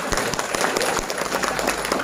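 An audience claps at a motivational talk, a short steady patter of applause from a crowd that carries on throughout.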